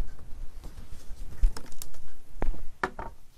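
Scissors or a craft blade cutting paper for a handmade journal page, a few crisp snips and rustles spread across a quiet room, close and fairly soft.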